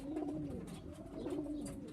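A hen pigeon among young birds coos in low, rolling, repeated phrases, close and continuous over a faint background hum.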